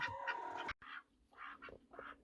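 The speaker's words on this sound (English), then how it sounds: "I don't know how much that you could hear with these duckies quacking" Several ducks quack in bursts close by on a homestead, repeated calls alone after a brief sharp cut near the start.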